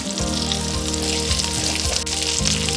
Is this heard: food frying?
yes